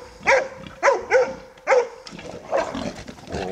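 A dog in a working or bite-training session gives three loud, close barks in quick succession, followed by a scuffle of rougher, noisier vocal and movement sounds.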